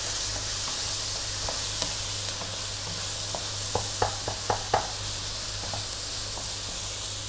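A salmon stir-fry with rice sizzles loudly in a hot pan and keeps up a constant frying hiss, while a few light clinks and scrapes sound as the food is tossed.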